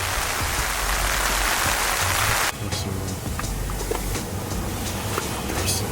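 Heavy rain pours steadily around a parked Subaru WRX, a loud dense hiss that abruptly thins after a couple of seconds into lighter patter with scattered drops striking the car's surfaces.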